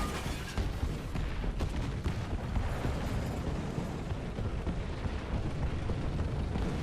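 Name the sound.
artillery strikes exploding in video game War Thunder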